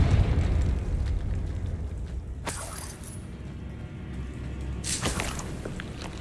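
Confringo blasting spells going off in Hogwarts Legacy: two sharp, bright explosive bursts a few seconds apart over a low rumbling game background.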